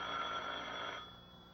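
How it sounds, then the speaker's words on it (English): An old-fashioned telephone bell rings steadily in an office setting, a continuous metallic trill that cuts off about two-thirds of the way through, leaving only a faint hum. "will that phone ever stop ringing"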